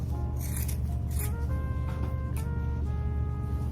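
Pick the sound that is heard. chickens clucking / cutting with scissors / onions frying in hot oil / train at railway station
cutting with scissors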